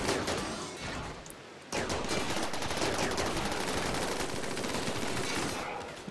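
Mechs spraying gunfire at walls in Rimworld Alpha 9, a dense, continuous stream of rapid shots that drops out briefly, then resumes loud and steady to the end.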